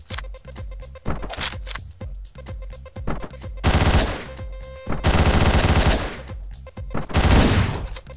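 Rapid gunfire from the Hotline Miami video game rattles in loud, sharp bursts, with several dense volleys separated by brief gaps and no talking.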